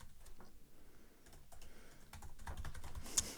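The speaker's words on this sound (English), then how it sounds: "He's typing away. Boss man's typing away." Rapid, irregular keyboard typing at close range, with quiet clicks that get denser and louder toward the end, ending on one sharper tap. No one speaks.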